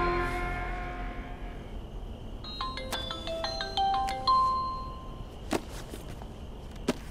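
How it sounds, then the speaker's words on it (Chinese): A phone rings with a repeated electronic ringtone melody in a quiet room, and a couple of brief knocks or clicks follow. "电话"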